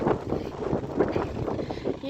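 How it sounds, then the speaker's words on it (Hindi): Strong wind buffets a roadside in the hills, a loud steady rushing roar with gusty swells that covers the whole moment, no clear voice over it. "बहुत तेज़ हवा चली है।"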